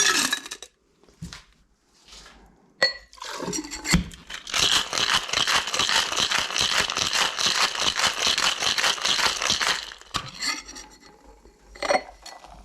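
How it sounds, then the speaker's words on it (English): Ice rattles hard inside a cocktail shaker while making a margarita, in a fast, vigorous burst lasting several seconds, with a few clinks and knocks before and after. "I'm going to shake that up. Some ice, ready to go."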